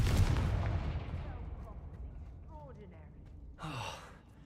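A Confringo blasting spell in the Hogwarts Legacy video game, heard as a sharp burst that trails off into swirling whooshes, followed by a second bright crackling blast near the end, with a voice calling out at the start.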